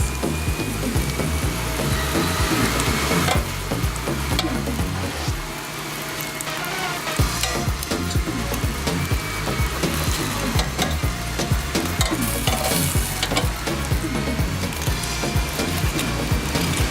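Chicken wings cooking in an air fryer and being turned over, a dense crackling hiss with scattered clatters and knocks that continue steadily throughout.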